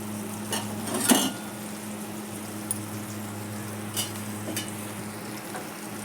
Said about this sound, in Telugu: ఇట్లా ఒక 2-3 మినిట్స్ వచ్చి లో ఫ్లేమ్లో ఫ్రై అవ్వాలండి